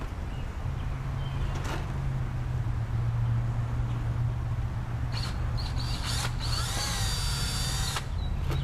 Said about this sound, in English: And we're drilling it on the spot where we marked it earlier with the small drill bit.